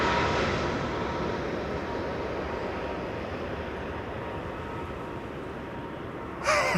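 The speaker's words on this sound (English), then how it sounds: "A321neo arriving from Gatwick, right behind the KLM" Steady, loud broadband roar of an Airbus A321neo airliner arriving on the runway at Amsterdam Schiphol, holding a constant rumble throughout with a brief extra burst near the end.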